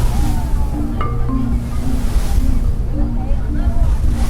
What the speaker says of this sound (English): the waves were getting choppy